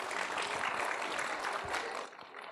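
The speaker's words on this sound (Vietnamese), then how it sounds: "chúng ta vỗ tay cho Đông Nhi." Applause from a studio audience on a Vietnamese entertainment show, a thick continuous burst of clapping that holds steady for about two seconds, then thins out quickly.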